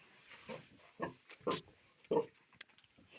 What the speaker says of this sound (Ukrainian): ну ось наша свинка, дівчинка наша